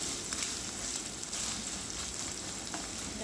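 Ground pork and garlic fry in a pan with a steady, dense sizzle that holds at an even level throughout, with no voices heard.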